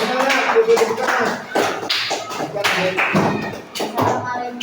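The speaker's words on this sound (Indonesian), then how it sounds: "Oke, kasih tepuk tangan buat kelompok 2, ayo. Tepuk tangan." A classroom audience claps for a presenting group in a short burst of scattered applause, heard under a voice speaking close by.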